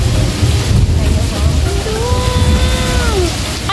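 Heavy rain pours steadily at an outdoor bird park in Singapore, a dense continuous hiss with low wind rumble throughout, while faint tonal whistles, likely birds, rise in the background.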